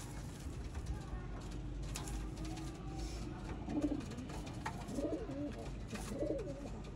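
Sialkoti pigeons, a VIP breed, coo in a few soft, low, rolling phrases toward the end, set against a steady background hiss of loft noise.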